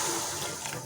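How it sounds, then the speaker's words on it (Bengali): Water pours into a hot pan of fried taro and potato, a brief, loud continuous gushing rush. "জল দিয়ে দিলাম"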